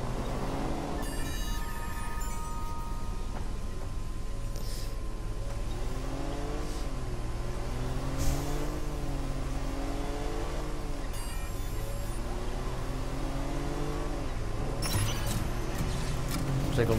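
A car in the video game Watch Dogs drives and revs, its engine note rising and falling in repeated surges over a continuous hum, while someone talks over it.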